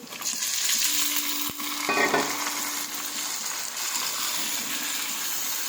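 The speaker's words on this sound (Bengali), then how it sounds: "মাংসটা একটু ভালো করে নেড়ে চেড়ে নেব" Steady sizzling of marinated meat frying in a pan with onions, with occasional scraping and clinks from a utensil as the pieces are stirred.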